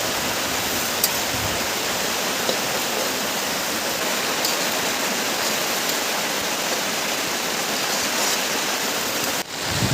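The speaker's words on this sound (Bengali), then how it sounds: "তো এদিকে প্রচুর বৃষ্টি হচ্ছে।" Heavy rain pours down in a steady, dense, loud roar that stays even from start to finish, close by and uninterrupted by voices, with a brief knock near the end.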